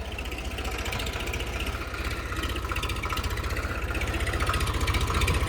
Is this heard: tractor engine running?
yes